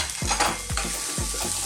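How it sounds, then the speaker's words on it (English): Red onion frying and being stirred in a pan, with a steady sizzle and several sharp scraping strokes close by at a regular pace. "I'm using a red onion today"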